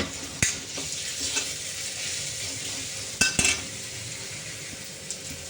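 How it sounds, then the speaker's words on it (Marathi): Garlic and green chillies sauté in hot oil for a shepu bhaji with moong dal, a steady close frying hiss broken by a few sharp clinks and scrapes of a spoon against the pan, with no talking. "लसूण टाकूया हिरवी मिरची टाकून घेते ते चांगलं आपल्याला तेलामध्ये परतवायचं आहे"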